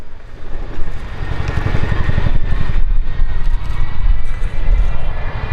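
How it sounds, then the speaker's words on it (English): RAF Chinook twin-rotor helicopter flying a display at an air show, a loud close rumbling roar with heavy rhythmic blade thumping that rises and falls. "Ladies and gentlemen, the Royal Air Force Chinook Display Team 2019."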